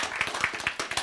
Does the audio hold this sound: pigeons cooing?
no